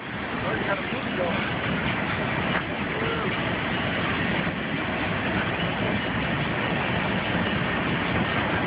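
A train rumbles past close by with continuous heavy roar and clattering wheels, loud and steady throughout.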